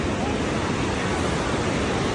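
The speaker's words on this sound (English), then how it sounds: "rapid right here. Look at how powerful and furious the water is." Powerful, furious river rapids: a loud, steady broadband roar of rushing water that fills the clip without a break, with no voices over it.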